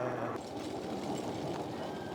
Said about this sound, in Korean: 한동안 방치되어 있던 철로를 주민들이 사용하기 위해 만든 대나무 기차입니다